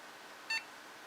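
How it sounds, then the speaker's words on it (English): A single short electronic beep from a Dell Inspiron 530 or Vostro 400 desktop computer, a clean tone sounding alone over faint background hiss. "Beep."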